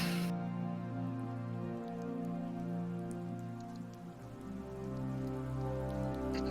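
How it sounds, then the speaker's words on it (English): A rain sound-effect track plays as ambience for a Dungeons & Dragons session, a steady, dense patter of raindrops on a surface with a low, even wash underneath and no voices. "I have not snuck anything creepy into the rain track"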